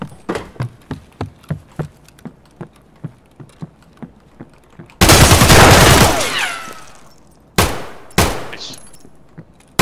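Video game gunfire: a rapid series of single shots in an even rhythm, then a loud sustained burst of automatic fire, followed by a few more sharp reports, all close and loud.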